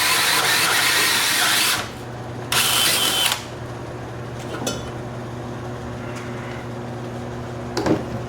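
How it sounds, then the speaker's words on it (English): A power drill whines loudly in two bursts, spinning up and stopping while drilling a hole in a sandblasting cabinet, followed by a hum and a few clanks of tool handling. "I'm gonna drill the hole"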